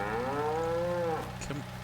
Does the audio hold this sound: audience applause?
no